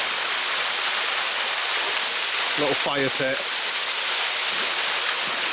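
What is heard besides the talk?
waterfall near a wild camp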